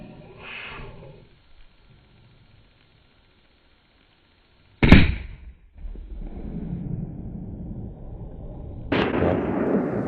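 Gunshots from a javelina hunt in the Arizona desert: one sharp, loud nearby rifle report, then outdoor rustle and a second loud crack near the end.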